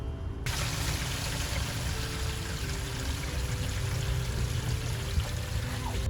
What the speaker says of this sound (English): you pull the gray to wash out the sewer line.